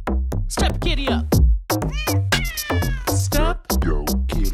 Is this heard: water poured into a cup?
no